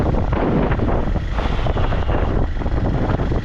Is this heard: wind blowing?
yes